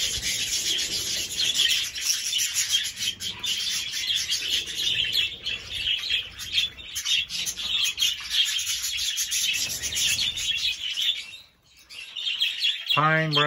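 Elegant parrots and other aviary birds chirp and tweet in a dense, steady chorus, with rustling and rubbing noises beneath and a brief lull near the end before a sharp call.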